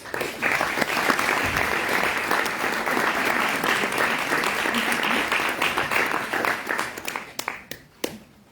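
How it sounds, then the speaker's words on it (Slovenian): Sustained, dense applause from an audience at a human rights film award ceremony in Slovenia, loud and steady for several seconds before thinning into a few scattered claps at the end. "Prosim za aplavz."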